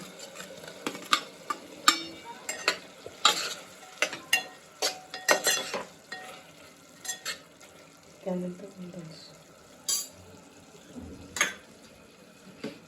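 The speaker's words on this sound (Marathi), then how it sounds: "भाज्या शिजलेल्या आहेत, आता आपण नूडल्स मिक्स करतोय." A spatula scrapes and tosses Hakka noodles with cooked vegetables in a pan, irregular close clanks and stirring swishes over a soft sizzle, with no voice heard.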